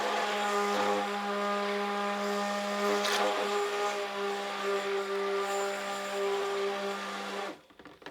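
Soap mixture mixed until emulsified, with a loud, steady, droning mechanical whir held for about seven seconds before it cuts off abruptly.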